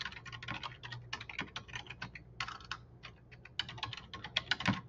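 Rapid, uneven bursts of computer keyboard typing as an email address is keyed in, close and steady for several seconds with brief pauses, no voices.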